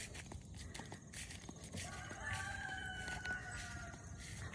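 Backyard chickens heard outdoors in the morning: scattered clucks and a rooster-like call at moderate distance, with steady ambient noise and occasional footsteps, no talking.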